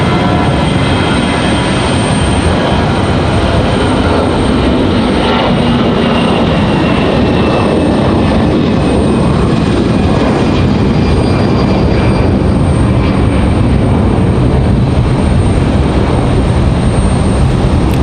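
A Delta Airbus A319 jet races down the runway at Raleigh-Durham International Airport on its takeoff roll, a loud, continuous engine roar with a high whine on top, heard from outdoors at a distance.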